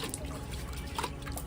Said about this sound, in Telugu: సో గైస్ అట్లా అయితే వాటర్ పోసాం అనమాట